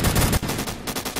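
Short burst of rapid automatic gunfire in the Roblox shooter Phantom Forces, a heavy gun firing in quick pulses, moderately loud and alone.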